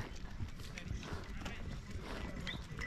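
Horse hooves clip-clop steadily during a ride in Sonmarg, Kashmir, a rhythmic close plodding under people talking.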